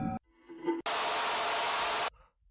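A burst of weird white noise from a sample pack plays as a steady, loud hiss of just over a second, cut off sharply. Brief, fainter tonal sounds come just before and after it.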